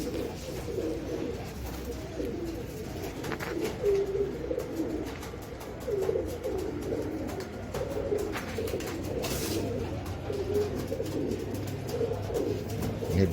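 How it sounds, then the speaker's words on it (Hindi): Dub pigeons coo softly in low, repeated throaty calls, close by, overlapping over a steady background murmur. "ये डब वाला कबूतर माशाल्लाह से।"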